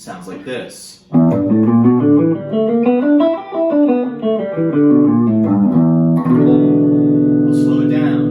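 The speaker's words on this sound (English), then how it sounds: "The blues scale sounds like this." After a brief spoken voice, an electric guitar runs through a blues scale in quick, distinct single notes, rising and falling and ending on a ringing held note.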